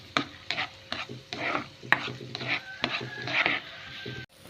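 Finely chopped garlic sizzles in melted butter in a pan, a light steady frying hiss punctuated by a series of sharp spatula scrapes and taps against the pan, close by, no speech.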